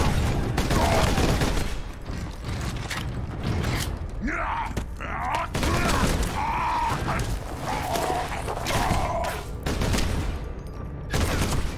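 Bursts of rapid gunfire in the video game Space Marine, loud and sustained fusillades with short gaps between them, mixed with mechanical clanks and creaking.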